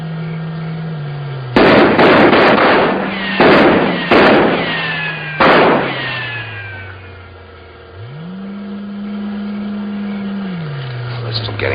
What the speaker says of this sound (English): Fire a few rounds.